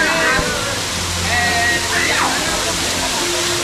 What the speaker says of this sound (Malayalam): ആ മലേൻ്റെ മുകളിലൂടെ ഒരു ഭംഗിയുള്ളൊരു വെള്ളച്ചാട്ടം